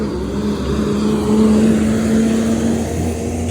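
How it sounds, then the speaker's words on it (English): Bus passing by on a street during a dog walk, a loud, steady engine rumble with a low droning tone that swells slightly as it goes by, close and alone without voices. "let's pause for the bus"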